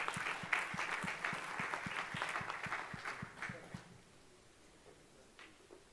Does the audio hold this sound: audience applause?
yes